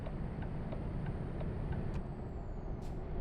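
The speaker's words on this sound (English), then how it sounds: "that noise that's been annoying me this whole time is the fucking turbo on this truck" A truck's turbo in a truck driving video game gives a thin, high, steady whine over a dense engine rumble, which stays constant throughout with a brief hiss near the end.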